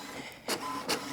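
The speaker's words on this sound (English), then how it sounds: "I had to shut down the whole printer and 3 pages popped out" A printer runs and pushes out pages, giving two short, loud mechanical bursts of paper feeding over a faint steady hum, with no voices.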